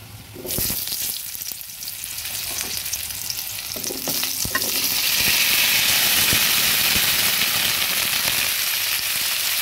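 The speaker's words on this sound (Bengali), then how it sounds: "কড়াইতে সর্ষের তেল দিয়েছি। এবার আস্তে করে কোয়াশগুলো ভেজে নেব।" Koyash pieces frying in mustard oil in a wok give a loud, continuous sizzle that swells and stays dense, with faint stirring knocks and no talking.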